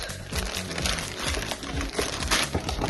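A plastic bag from a Chinese Lego Minecraft set crinkles and rustles up close, with continuous crackling handling noise and no talking.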